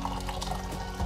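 Water pours steadily into a saucepan on a kitchen stove, a continuous close splashing stream for about a second with no talk over it.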